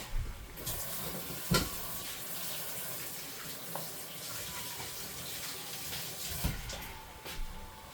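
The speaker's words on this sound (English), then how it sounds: "I'm going to wash my hands." Tap water runs steadily in a home kitchen while hands are washed beneath it, a soft continuous hiss broken by a few louder splashes and clinks, with no talking.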